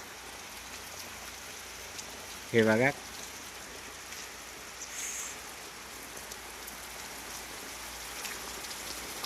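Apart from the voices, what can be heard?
heavy rain falling outside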